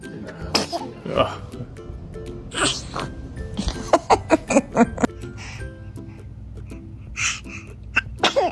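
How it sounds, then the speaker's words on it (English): Several small, sharp sneezes from a child burst out in quick succession, mixed with brief breaths and faint giggles close by. "give it up for those little kid sneezes"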